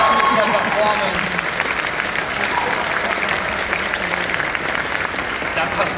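Steady audience applause at a cosplay contest at Watercon on the Bremen waterfront, marking the end of a performance, a dense continuous clapping that holds evenly loud throughout.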